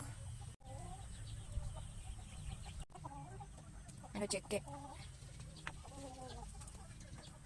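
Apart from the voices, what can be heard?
chickens clucking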